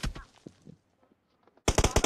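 In a BGMI squad match, a machine gun fires a short burst of rapid, loud shots at the end, following a quieter stretch with faint speech and scattered game sounds.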